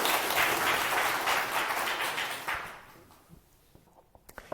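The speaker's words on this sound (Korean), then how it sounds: "박수 한번 부탁드립니다." Audience applause at a Buddhist dharma talk, a dense wash of clapping that stays loud for about two and a half seconds, then thins out into a few scattered claps.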